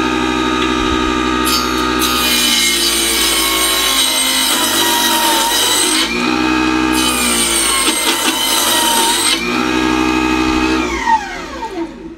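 A homemade mini bench machine with a saw blade fitted to its extended shaft runs steadily, a loud continuous motor whine with sharp harmonic tones that rise and fall in pitch as it spins up and slows.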